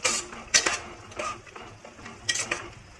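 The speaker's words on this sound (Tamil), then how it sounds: "இதை நல்லா மிக்ஸ் பண்ணி விட்டுக்கலாம்." A spoon scrapes and clinks against a metal pot while stirring Dindigul-style mutton gravy with coconut milk, giving several irregular close knocks and scrapes with no voices.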